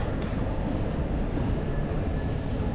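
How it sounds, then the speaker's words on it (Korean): A Tashkent subway train pulls into the station with a steady low rumble and rolling rail noise, loud and continuous throughout with no voices. "지하철 왔는데 좀 멋있게 생겼네."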